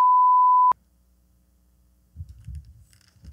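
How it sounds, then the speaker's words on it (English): A single steady electronic ring tone sounds briefly and loudly, followed by silence and then some faint low rustling. "It's ringing."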